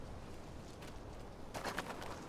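A bird in Little Nightmares II gives a short flurry of faint cooing or fluttering calls toward the end, set over a quiet low ambient rumble.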